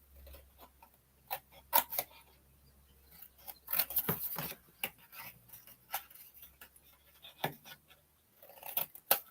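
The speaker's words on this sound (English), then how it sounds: "And I'm going to cut these down into just single strips." Scissors cut paper stamp strips in a quiet room, giving a series of crisp, irregular snips and rustles, close and fairly faint, with a soft low hum in the background.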